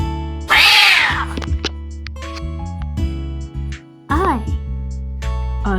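A hairless cat meows close by in a long rising-and-falling call, then gives a few shorter meows later, while people talk and move around in a home.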